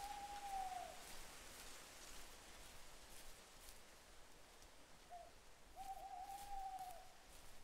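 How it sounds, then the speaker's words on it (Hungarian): Owls hoot in the video game The First Tree, two drawn-out calls a few seconds apart, soft and somewhat distant over a constant rain-like hiss. "Halljuk a baglyokat"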